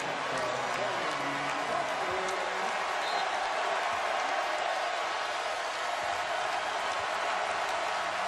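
Basketball arena crowd cheering and applauding after free throws at a Kentucky vs. UCLA college game, a steady broad roar filling the whole stretch, with an announcer talking over it.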